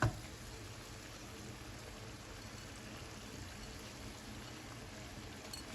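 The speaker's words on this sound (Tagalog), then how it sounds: "akin pong nilagyan ng tubig." Water is poured into a cooking pot while chicken soup is being made. The pour is a soft, steady rushing stream heard on its own, faint and even throughout.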